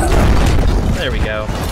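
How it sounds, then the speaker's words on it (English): A loud burst of crashing, booming clutter from a loot explosion in the video game Project Warlock, with dense layered impacts and some brief tonal sweeps, dense and close throughout. "they even give you like a nice loot explosion"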